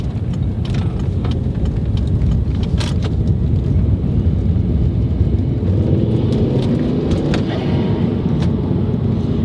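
A Volvo C30 T5 fitted with a K&N Typhoon intake pulls hard under acceleration, a loud, steady low engine roar filling the cabin continuously with no talk over it.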